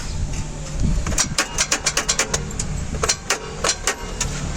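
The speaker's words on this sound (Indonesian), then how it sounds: "Ternyata kasusnya nggak kuat starter." A car engine with a weak starter and a battery that tends to drop is cranked, giving a rapid, rhythmic series of labored starter pulses that repeat for several seconds without catching.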